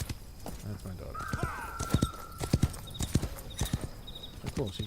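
Horse hooves clip-clop in a Wild West Online game, steady galloping beats with a brief whinny, under a voice talking over the gameplay.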